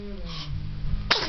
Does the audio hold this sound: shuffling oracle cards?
no